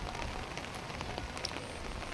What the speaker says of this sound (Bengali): বৃষ্টি আর বৃষ্টি, বৃষ্টি আর বৃষ্টি, পানি পানি আর পানি, জল থই থই করতেছে